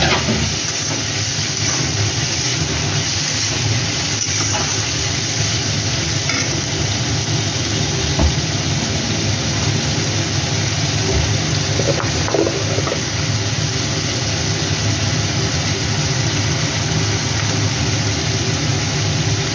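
Peeled shrimp fry loudly in a pan for a dish of taro stolons with onion, a dense, constant sizzle and hiss with occasional stirring scrapes and no talking.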